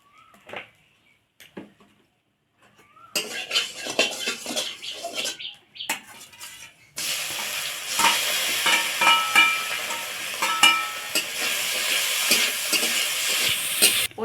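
Mustard seeds, a bay leaf and a dried red chilli hit hot oil in a kadai just used for frying mourala fish, bursting into a loud, steady crackling sizzle with faint utensil clinks before it.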